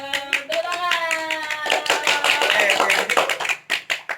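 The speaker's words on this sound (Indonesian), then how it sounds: "Tepuk tangan." Students clapping in a classroom during a microteaching lesson, with rhythmic claps over excited children's voices that end in a few distinct, separate claps.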